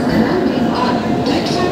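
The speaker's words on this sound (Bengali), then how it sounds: "ট্রেনটা তার একদম সময় মতো চলে আসলো।" The Amritsar–New Tinsukia Express pulling into a station platform gives a steady, loud, continuous rumble of rolling train cars, with faint background voices mixed in.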